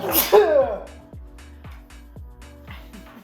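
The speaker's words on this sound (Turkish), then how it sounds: "Hapşırdım" One loud sneeze close up, followed by a run of short, evenly spaced knocking or tapping sounds.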